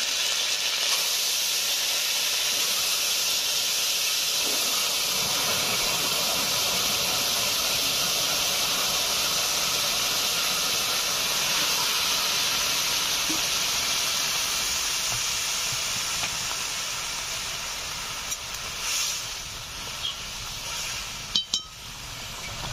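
Pabda fish fry in a pan with ginger paste and whole cumin, giving a long, loud, steady hiss and sizzle that eases slightly toward the end, where a few metal clinks ring out.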